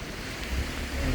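Rain falls steadily on someone walking outdoors without an umbrella, a soft continuous hiss with faint drop patter throughout.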